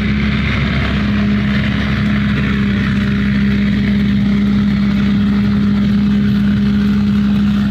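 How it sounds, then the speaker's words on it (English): An almond sweeper machine drives along an orchard row, its engine a loud, constant droning hum with a strong steady tone and a rushing mechanical roar, close by throughout with no pauses. "So if you're watching that sweeper driving along and you're wondering what the hell is going on"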